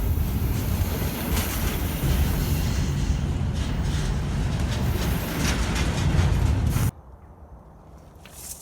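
Steady loud rumble and rattle of a moving passenger train between Dallas, Texas and West Memphis, Arkansas, with faint wheel clatter, then the noise abruptly drops to a quieter hum as it slows.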